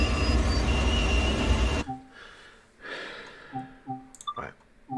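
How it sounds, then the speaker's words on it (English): Train noise in a train simulator game, a loud dense rumble that cuts off abruptly after about two seconds, followed by quieter swells, soft tonal beeps and a few clicks. "So now the train noise is still too high."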